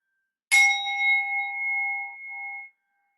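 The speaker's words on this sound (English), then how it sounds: "Inviting the bell of mindfulness again." A single mindfulness bell is struck once, a clear bright ring that sustains and slowly fades over about two seconds, close and alone in silence.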